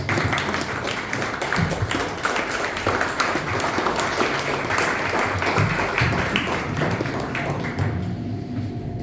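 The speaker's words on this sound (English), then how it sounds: "Huge round of applause." A dense, steady round of applause from a Toastmasters meeting audience, many hands clapping together for several seconds before fading near the end.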